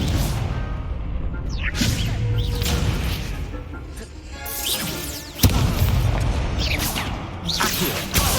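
Confringo fire spell bursts in Hogwarts Legacy, a loud booming explosion with whooshing sweeps and a sharp crack midway, dense game effects filling the whole stretch.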